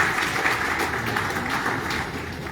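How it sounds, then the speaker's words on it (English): Steady, dense applause from an audience at a foundation dedication ceremony in Liberia, sustained clapping without a break and no talk over it. "A round of applause, please,"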